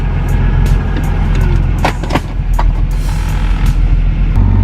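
BMW E36 driving with a newly fitted Condor Speed Shop solid steering coupler: a steady, loud road and engine rumble with scattered clicks and mechanical ticks throughout, no talking.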